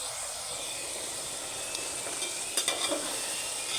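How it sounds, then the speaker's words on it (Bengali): Meat with its fat frying in a pan, a quiet, even sizzle and hiss, with a short cluster of stirring scrapes near the end, no voices. "দেখি এখন মাংসটার কী অবস্থা, একটু নেড়ে দিই।"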